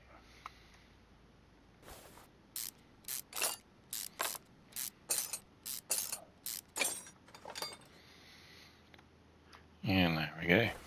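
A ratchet wrench removing clutch bolts in the Car Mechanic Simulator video game: about a dozen short, rapid clicking bursts in steady succession, then a brief hissing spray at the end.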